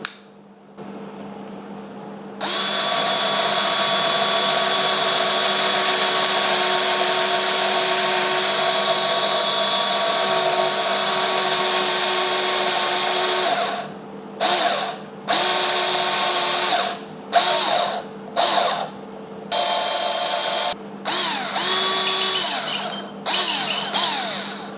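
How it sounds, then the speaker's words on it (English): A power drill fitted with a larger bit bores a hole for a bolt, running loud and steady with a constant whine, then stopping and restarting in several short bursts near the end. "I have attached a bigger drill bit here into the drilling machine, and I'm going to start drilling"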